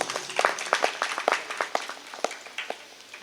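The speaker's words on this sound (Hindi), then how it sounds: "ये ताली किसके लिए बजाई आपने?" An audience at a Hindi religious sermon claps in scattered, uneven bursts for about three seconds, a dense patter of hands without any voice over it.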